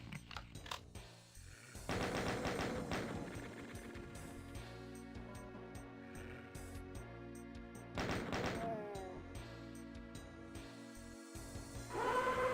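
Doom-style chaingunner enemy firing, a sustained mechanical rattle of rapid gunfire mixed with clanking game effects and a steady droning background, loud and dense throughout with louder bursts.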